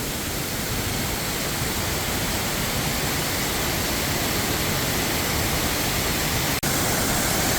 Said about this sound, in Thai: ด้านข้างขวามือนะ ก็จะมีน้ำตกเล็กๆอยู่